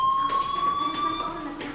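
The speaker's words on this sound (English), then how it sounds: "Hey, do you hear that fire alarm?" Electronic fire alarm in the video game Life Is Strange, a steady high beeping tone with overtones that sounds continuously under a speaking voice.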